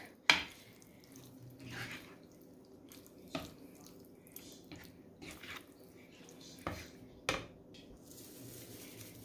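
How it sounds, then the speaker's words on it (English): A pot of meat sauce simmering on the stove gives off sparse, irregular wet pops and drips against a quiet, low bubbling background, with no talk. "all we're doing now is simmering and letting the flavors cook into the meat"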